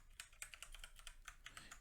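Computer keyboard being typed on in a quick, light run of separate clicks, quiet and close, ending with a key press for enter.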